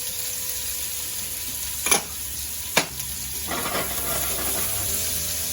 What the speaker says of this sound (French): Pour faire suer, revenir la garniture aromatique.